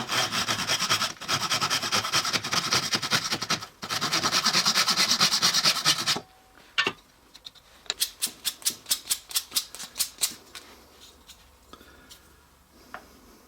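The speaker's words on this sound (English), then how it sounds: "then we'll sand the end" A wooden dowel end being sanded by hand, dense steady rubbing strokes for about six seconds with a brief pause, then a run of sharp light taps and scrapes that fade out.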